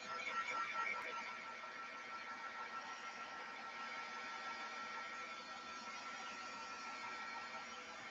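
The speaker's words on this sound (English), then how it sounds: "This is more of a heat tool." A heat tool blows hot air in a steady, fairly quiet whooshing hiss that holds an even level throughout, with no talking.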